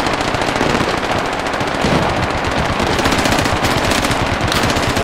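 Sustained automatic gunfire from enemies in an armor combat video game set in Harju, loud and continuous rapid bursts that fill the whole span with no pause.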